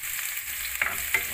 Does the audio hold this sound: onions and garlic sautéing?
yes